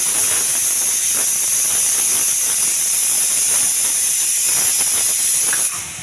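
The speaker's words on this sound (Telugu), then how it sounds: "ఉల్లిపాయ బాగా వేగాలండి" Onions frying in a pan give a loud, steady hiss like steam, continuous and close, with faint clinks underneath, easing slightly at the end.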